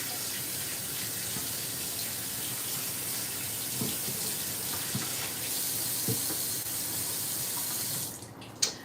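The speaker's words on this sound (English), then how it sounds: "So go ahead and wash your hands." Tap water runs into a kitchen sink while hands are washed during eggplant Parmesan prep, a steady close splashing flow with a few brief clatters, cutting off sharply near the end.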